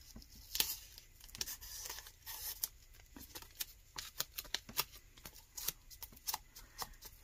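Tape being peeled off a poured resin book trinket box mold to lift residue, giving a quick series of dry crackling rips and crinkles, close and fairly quiet, repeated in short bursts with no talking.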